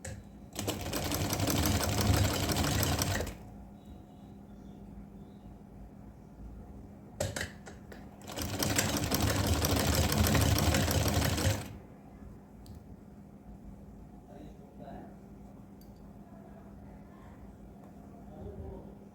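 A sewing machine stitches a small Laddu Gopal dress in two loud, steady bursts of rapid whirring, each lasting a few seconds, with quiet pauses and soft handling sounds between them.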